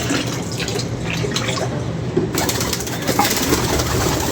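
Kept pigeons coo softly beside a steady, noisy background hum, with soft cooing calls breaking in now and then over a few seconds and no clear speech.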